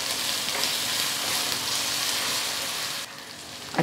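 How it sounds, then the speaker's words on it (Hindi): Ginger garlic paste sizzles steadily in a hot pan while being stirred during malai seekh kabab biryani cooking, a loud continuous frying hiss that dips briefly near the end before a small clatter. "1 टेबलस्पून भरकर हम इसमें अदरक लहसुन का पेस्ट मिला देंगे, अच्छी तरह से भून लेंगे, 1 से 2 मिनट चलाते हुए पकाएंगे।"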